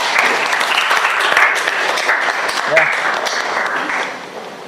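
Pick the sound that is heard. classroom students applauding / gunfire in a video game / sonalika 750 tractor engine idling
classroom students applauding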